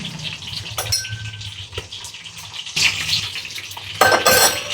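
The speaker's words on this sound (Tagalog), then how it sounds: "yung ano natin, piniprito pala" Food fries in hot oil in a pan, a steady crackling sizzle close by, broken by clattering stirs and scrapes of a utensil against the pan that grow louder toward the end.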